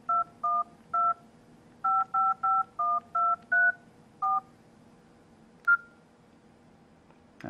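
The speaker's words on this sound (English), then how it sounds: "So if we just dial a random number," A Nokia 5800 XpressMusic keypad beeps out a phone number: about ten crisp dual-tone presses in quick uneven groups, followed by a single short blip, then silence.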